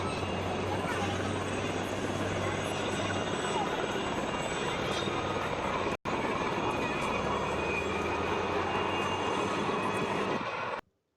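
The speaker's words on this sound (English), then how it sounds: "Helicopters are flying through in formation" Several helicopters fly past in formation at the Africa Aerospace and Defence air show, a loud, steady rotor and engine roar that fills the whole stretch, with a brief dropout midway and a low throbbing underneath.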